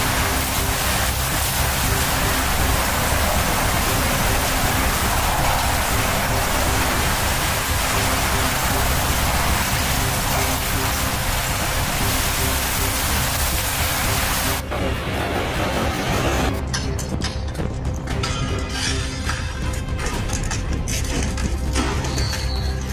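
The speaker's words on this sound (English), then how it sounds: "the dam broke under the immense pressure of water, completely draining" Loud, continuous roar of rushing water from a broken dam, a dense torrent that never lets up, with a slight shift in texture partway through.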